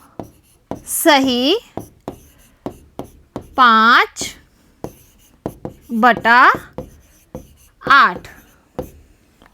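A hand writes a fraction during a Hindi-language primary-school maths lesson, with short scratchy strokes falling in the pauses of a teacher's steady speech.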